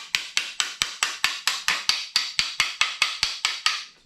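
An engine main bearing cap is tapped down into place with about sixteen evenly spaced, crisp metallic taps in a steady rhythm, close and clear, fading slightly at the end.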